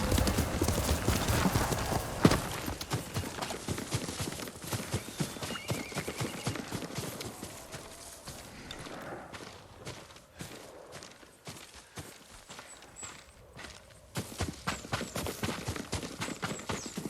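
Horse hooves clip-clop in the Ghost of Tsushima video game, a steady walking rhythm close by with occasional whinnies and brief louder bursts around the middle and end.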